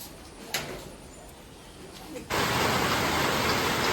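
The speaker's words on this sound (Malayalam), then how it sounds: "നല്ല മഴയാണ്, നല്ല മഴ എന്ന് പറഞ്ഞാൽ നല്ല മഴയാണ്." Heavy rain at a home in Kerala bursts in abruptly partway through, turning a quiet backdrop into a loud, dense, steady roar that continues to the end.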